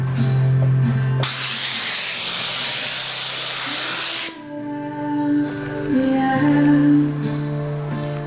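A steam cleaner blasts a loud, broad hiss of steam for about three seconds on a BMW R1200 RT motorcycle, bracketed by quieter tonal humming before and after.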